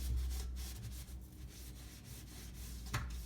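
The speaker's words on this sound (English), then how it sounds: "you put salt on it, get that all over, and then you just rub it around here. Just rub it." A salted lemon rubbed over a surface to clean it, giving a soft, continuous scrubbing and grinding sound, close and quiet, with no voices.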